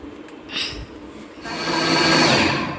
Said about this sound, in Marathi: पण आता अंडी, ब्रेड, दूध आणि साखर हे सगळं घालून घेतलं आहे. आता हे आपण फेटे लावून घेते आणि हे ब्लेंड करून घेते